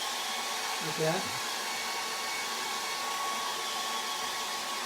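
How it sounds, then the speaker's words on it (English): A hairdryer blows steadily and close on wet acrylic paint during a charcoal and acrylic figure study, a constant airy whir running the whole time, with a brief spoken word near the start. "And start drying it off with the hairdryer."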